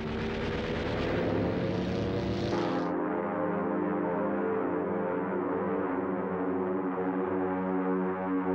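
WWII German bomber aircraft engines droning steadily, a loud sustained multi-engine roar whose tone drops and mellows partway through as if passing overhead, with no voices.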